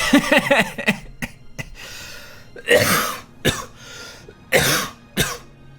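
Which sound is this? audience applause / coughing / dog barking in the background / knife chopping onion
coughing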